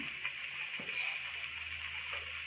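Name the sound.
chakli frying in hot oil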